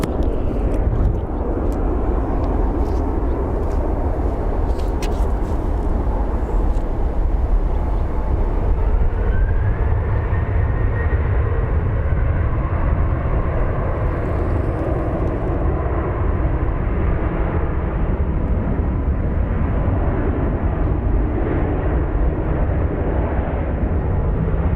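Jet airliners at Phoenix Sky Harbor International Airport give a loud, steady engine roar with deep rumble that holds throughout, as aircraft taxi across the runway.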